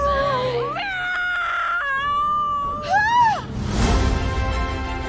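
A cat lets out long, wavering meows, rising and falling in pitch, followed by a noisy burst; loud and close.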